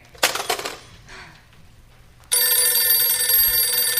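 A telephone bell rings loudly and continuously in a radio drama, coming in suddenly after a few clattering knocks and then sustaining a bright metallic trill.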